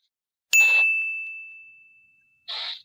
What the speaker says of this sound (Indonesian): Ini ada telepon masuk nggak apa-apa.